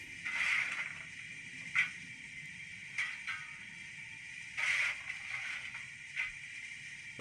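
Several scraping, rasping bursts of a coal-shoveling sound effect from a Rapido Trains Lion model locomotive, spaced irregularly over a low steady hum, small and tinny as if from a tiny speaker.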